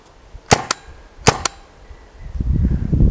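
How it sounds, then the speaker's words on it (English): A RAP4 T68 M4 paintball gun fires four sharp, close pops in two quick pairs, then a rustling, shuffling noise builds up nearby. "Wow, that's a good shooting gun."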